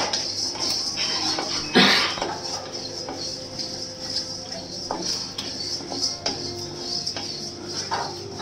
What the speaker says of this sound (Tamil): இதை லைட்டாக கொஞ்சம் வறுத்துக்கலாம்